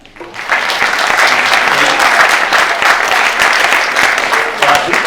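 An audience claps steadily at a university event, a dense wash of applause from a crowd that swells in quickly and holds until a brief dip near the end.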